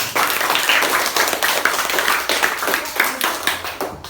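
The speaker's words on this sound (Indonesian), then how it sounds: "Tepuk tangan buat Bayu." An elementary school class claps for a student who answered correctly, a quick burst of many small hands clapping in a classroom, close and lively for several seconds before tapering off.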